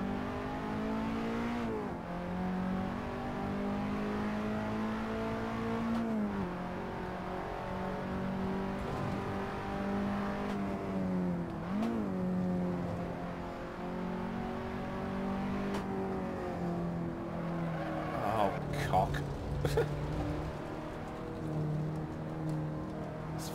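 A car lapping Cadwell Park in Assetto Corsa, the engine droning steadily and close with repeated rises and falls in pitch as it shifts and brakes, including a few sharp blips and dips. No voices.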